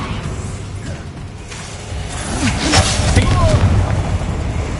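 Spell blast in a Harry Potter-style video game, a deep booming burst with whooshing sweeps, rising to a loud rumbling peak midway and sustained behind faint speech.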